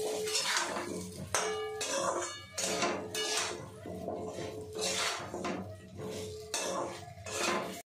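Ground spice masala being stirred and mixed into olives for a hot-sour olive pickle, with steady scraping and clinking of a spoon against a pot or bowl, loud and close and continuing throughout without speech.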